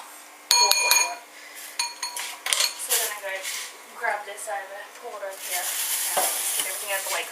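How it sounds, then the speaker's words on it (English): Food sizzling in a hot pan in a home kitchen while a utensil scrapes and clinks against the pan as it is stirred, with a steady frying hiss building underneath, heard close. "I'm just going to stir that a bit."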